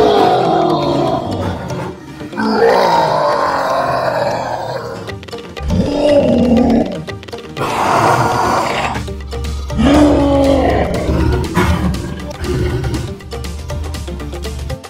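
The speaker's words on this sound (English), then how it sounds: "Lion, it's the king of the jungle." A cartoon lion in a kids' animal show gives a run of loud, growling roars, one after another, filling the whole stretch.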